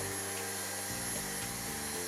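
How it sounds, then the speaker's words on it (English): A Buture Pro BP10 cordless stick vacuum cleaner runs with a steady whirring motor hum and high whine, fairly quiet, with slight pitch shifts as it works, and no talking. "I forgot to measure the noise level of the Buture Pro BP10 vacuum cleaner."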